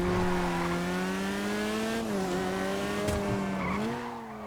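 A Maxwell Vagrant off-roader in a GTA racing game drives at speed, its engine droning steadily and loud with pitch dipping and rising through gear and throttle changes, plus brief tire squeal, and no talking.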